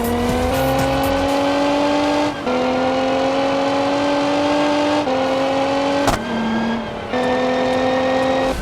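A tuned minivan laps a race track in a driving video game, its engine droning loud and steady in long pulls, with abrupt pitch drops at each gear change and no speech.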